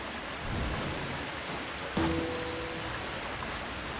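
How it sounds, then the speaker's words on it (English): A waterfall in the Harry Potter and the Sorcerer's Stone video game sends up a steady broadband rush like heavy rain, constant and fairly soft throughout, with a brief tonal game chime partway through and no voices. "Oh, it's a waterfall. I thought it started raining outside."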